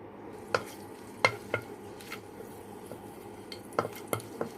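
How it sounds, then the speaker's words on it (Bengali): Whole spices such as cinnamon and cardamom fry quietly in ghee, with a soft sizzle under a few sharp clinks of a spoon stirring against the pan. "মশলাগুলো একটু ভাজা হচ্ছে।"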